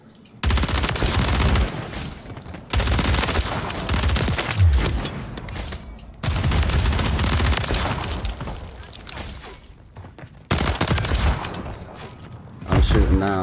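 Loud, close bursts of automatic fire from an HRM-9 gun in a multiplayer shooter video game, coming in several long sustained volleys separated by brief pauses.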